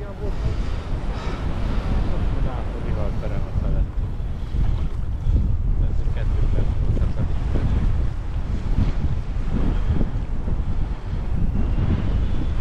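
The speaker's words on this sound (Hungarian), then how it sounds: "Hú, de jó egy kis szél végre." Wind gusts across a fishing lake on Easter Monday at Crazy Carp Lake before opening, a steady broadband rush with buffeting against the microphone, continuous and fairly loud throughout with no clear breaks.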